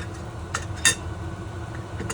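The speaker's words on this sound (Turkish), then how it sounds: "Bulaşık." A few light clinks of dishes and cutlery, with one sharper clatter near the middle, over low background noise.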